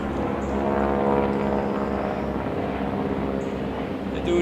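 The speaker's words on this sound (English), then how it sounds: "Let's see if you can see the airplanes cruising through." Airplanes flying overhead in formation flyovers, heard from woods as a steady, continuous engine drone that stays even throughout, moderately loud and distant.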